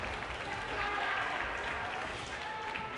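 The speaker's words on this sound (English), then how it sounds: "you hear the crowd erupt here at Blade Runners Bethel Park" A high school hockey crowd at a rink in Bethel Park cheers after a goal against Mt. Lebanon, a sustained wash of applause and cheering that swells midway and holds through the clip.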